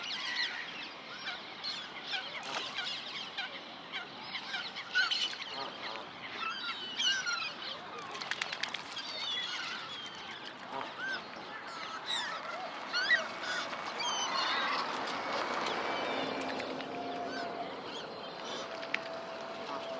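Canada geese honk intermittently in a park with swans, amid a busy outdoor wash of birdsong and chatter, with some steady water or background noise throughout.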